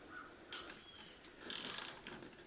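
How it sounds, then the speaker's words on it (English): Mechanical clicking of a pass-through wrench with an Allen wrench on a Fiat 500 front shock absorber nut, two short bursts of ratcheting, fairly close and moderately loud with quiet gaps between. "The way that you should do it is use a pass-through wrench. See, it goes right through, and an Allen wrench"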